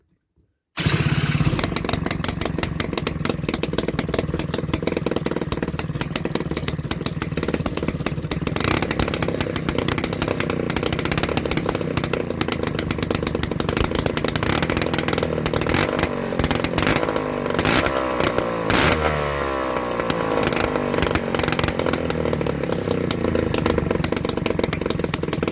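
A Piaggio Ciao moped's small two-stroke engine catches after silence and runs loud and close, with a rough, buzzing, continuous idle and a few revs, with no talk over it.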